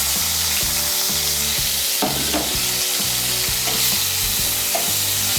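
Onion paste frying in oil for masala soybean is stirred hard in the pan, a loud continuous sizzle with rhythmic scraping strokes and a few sharper knocks, close and steady with no voices.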